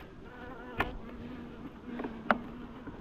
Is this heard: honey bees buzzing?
yes